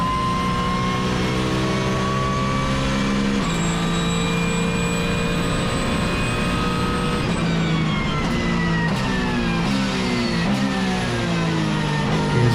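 Onboard a Porsche race car at Zandvoort Circuit, a loud, continuous engine note rises through the gears with sweeping pitch climbs and shifts, close and dominant throughout.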